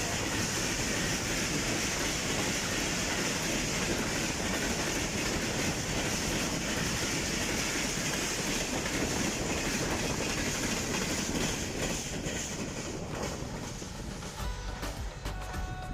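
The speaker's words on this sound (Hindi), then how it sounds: "अब गुजरने वाली है 42 डाउन काराकोरम एक्सप्रेस" The 42 Down Karakoram Express passes Gaddar railway station near Karachi, a loud continuous roar of wagons and rhythmic wheel clatter close by that slowly eases toward the end.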